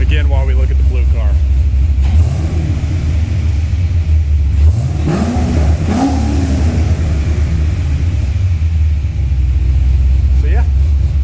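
A Chevrolet Corvette Z06 with an Akrapovic catback exhaust and its valves open gives a short, loud rev that rises and falls over a steady idle rumble in a garage, with someone talking around it.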